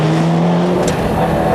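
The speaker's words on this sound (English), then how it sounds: "David Greer also has a 4-wheel drive Group A Cosworth, this time a self-prepared car" A self-prepared four-wheel-drive Group A Cosworth rally car on a 1991 park stage blasts past up close, a loud engine roar with a brief sharp burst in the middle.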